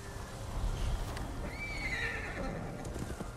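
A horse in the Ghost of Tsushima video game neighs and whinnies over steady clip-clopping hooves, with a busy background wash throughout.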